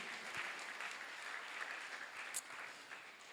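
An audience at a religious conference applauds with steady, continuous clapping that sounds somewhat distant and even in level for a few seconds.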